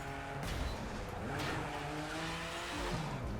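A video game Alfa Romeo Giulia in The Crew 2 slides sideways with a steady engine drone and rising tire squeal that swells twice, loud and continuous with no talking.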